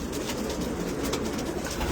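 First-class show pigeons at a morning bird show coo together in a dense, throaty chorus, many overlapping low rolling calls close by, with no talk over them.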